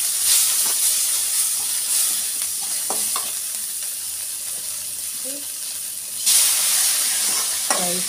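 Rice drops into a frying pot of khichdi, bringing a constant hissing sizzle and light stirring scrapes up close, with a sudden louder surge of steam toward the end.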